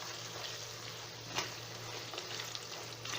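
Ginger and garlic paste frying in a pan gives a steady, quiet hiss of sizzling oil with a low background hum and an occasional soft stir, close and without talk.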